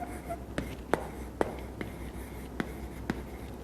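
Marker or chalk writing on a board during a biology lesson, a series of faint, irregular taps and short strokes scattered over a few seconds, with soft background breathing and murmuring.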